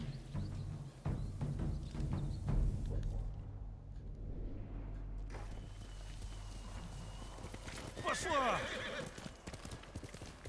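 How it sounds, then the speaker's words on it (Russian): Horse hooves clip-clop and a whinny rises near the end in Ghost of Tsushima, set over a low game music bed, with the horse Nobu's footfalls steady throughout. "Ты славный конь, Нобу."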